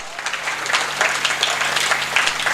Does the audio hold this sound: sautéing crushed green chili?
no